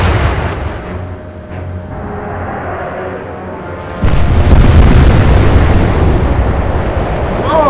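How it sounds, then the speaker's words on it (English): Four naval guns fire together in the Atlantic Fleet warship game: a loud booming salvo rolls out, quiets, then a second heavy blast bursts in and sustains a deep, roaring rumble. "we still keep firing with all four guns at the same time, all the time"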